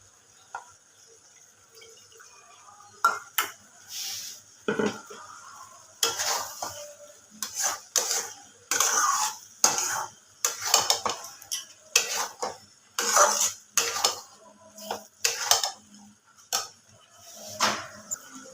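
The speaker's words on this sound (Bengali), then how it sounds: "ভালোভাবে নাড়াচাড়া করবো আলুগুলোকে মশলার সাথে ভালোভাবে মিশিয়ে নেব" Potatoes and spices are stirred in a pan, with repeated close scraping strokes and metal clinks against the pan, loud and rhythmic over a faint sizzle.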